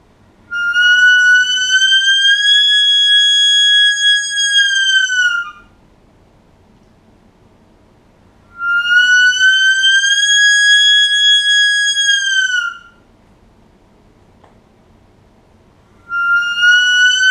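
A handheld sika call imitates a sika deer stag's bugle: long, shrill, whistle-like tones that rise and then drop, repeated with even gaps of silence between them.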